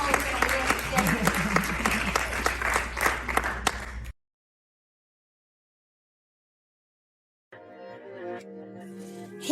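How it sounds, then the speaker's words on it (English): Applause at a TEDx-style talk in two bursts: a full round of clapping with some crowd voices, then a stretch of silence, then clapping that returns more thinly at the end. "Clap it up for my whole family."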